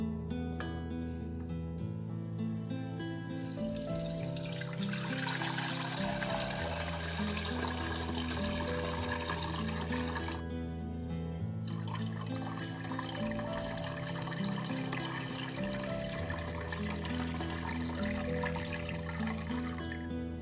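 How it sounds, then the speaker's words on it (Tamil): Sugar-dissolved water for a traditional summer panakam drink pours through a filter in a continuous close splashing trickle that runs steadily and unbroken. "ஒரு ஃபில்டர் வச்சு நீட்டாக வடிகட்டி எடுக்கிறோம் பாருங்கள்."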